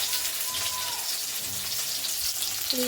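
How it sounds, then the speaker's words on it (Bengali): Fish frying in oil in a wok, a steady hiss and crackle of sizzling with a few soft clinks, moderately loud and continuous, under faint background voices. "কড়াই যে তেলটা ছিল তেলটার মধ্যে মাছটা ভেজে নিচ্ছি আর একটু তেল দিয়ে"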